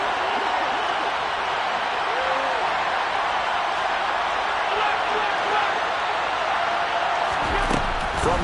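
A dense, roaring football stadium crowd fills the air at a constant loud level, a broad wash of voices that swells slightly near the end.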